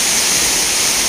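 Loud rushing, falling water, a dense, unbroken roar close by with no pauses or other sounds over it.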